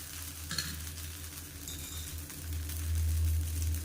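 Sorghum dosa batter cooking on a hot pan gives a steady, soft sizzle throughout with a low hum underneath, faint and uninterrupted, with no talking.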